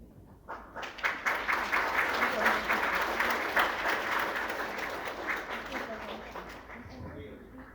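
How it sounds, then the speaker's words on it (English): An audience applauds at an inauguration and internship completion ceremony. Sustained, dense clapping from many hands rises quickly, holds steady for several seconds, then slowly thins out toward the end. "Please give everybody one more round of applause"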